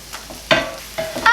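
A pan of egg and vegetable omelette for Korean street toast sizzles as it is scraped and flipped, with a few bright, close scraping bursts over the frying hiss.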